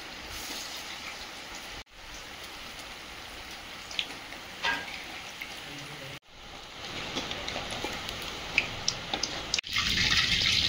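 Fish balls of pangas and tengra muitha frying in hot oil, a steady broadband crackle and patter with brief dips, louder and denser toward the end.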